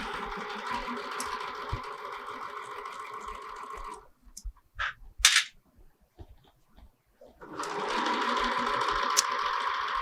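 Sewing machine basting piping onto a pillow front, a fast steady whirring run that stops for a few seconds of small clicks and handling, then starts stitching again, close by.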